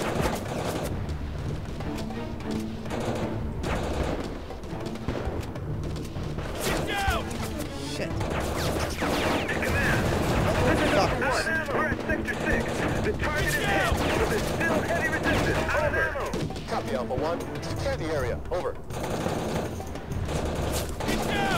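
Continuous gunfire rattles through a combat mission in the shooter game Heavy Fire: Afghanistan, with dense automatic bursts and crashing impacts layered throughout, while voices speak over the battle noise.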